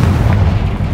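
Confringo fire spell blast in the Hogwarts Legacy video game, a loud, booming explosion that fills the whole second with a thick, rumbling low roar.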